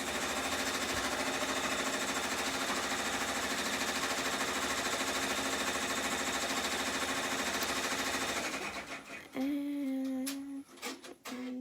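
Embroidery machine stitching a heart earring design, a steady rapid needle chatter running continuously, then stopping, followed by a few clicks and a faint hum.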